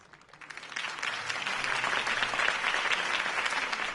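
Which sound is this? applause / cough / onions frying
applause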